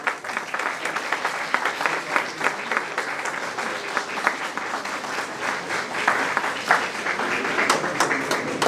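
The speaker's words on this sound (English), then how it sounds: "Can I have a big round of applause?" Audience at a hackathon competition prize ceremony giving a big round of applause, steady crowded clapping with individual sharp claps standing out, continuing at even strength for several seconds.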